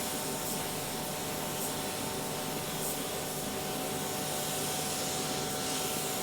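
Paint spray gun laying base coat on a custom car: a steady, close, even hiss that holds without a break.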